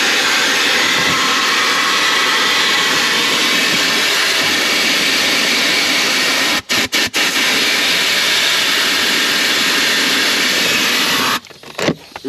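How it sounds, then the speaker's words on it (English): A small vacuum cleaner runs inside a car with a loud, steady whining roar. It cuts out briefly twice partway through and again near the end, and no one speaks. "we brought Bridget out, the smaller vacuum"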